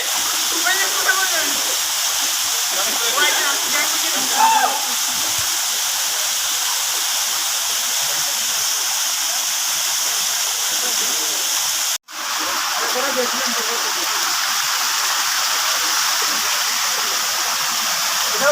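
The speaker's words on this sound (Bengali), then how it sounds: "পাহাড়ের দুই পাহাড়ের মাঝখানে ওই ঝর্ণা বেরিয়ে চলছে" Water from a waterfall between two hills rushes steadily with a constant broad hiss. People talk now and then over the flow, and the sound drops out briefly partway through.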